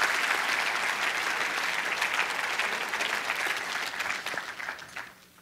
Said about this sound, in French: Ça, je pense que ça mérite une main d'acclamation pour le Seigneur qui change ta vie